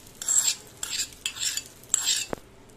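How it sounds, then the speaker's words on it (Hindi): A metal spoon stirs tempering into coconut chutney, scraping and clinking against the bowl in four or five short strokes with one sharper knock near the end, close up and without speech. "तो हम चम्मच की मदद से इसे मिक्स कर देंगे"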